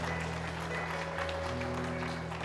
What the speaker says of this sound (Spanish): Vamos a aplaudirles.